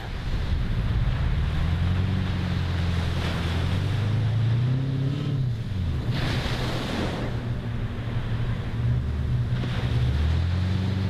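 Ocean surf rolls and crashes continuously, loud and close, with gusting wind buffeting the microphone throughout.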